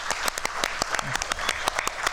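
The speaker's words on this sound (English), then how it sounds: "Clap for each other. Round of applause." Steady applause from a small conference audience, many hands clapping at once in a dense, continuous patter.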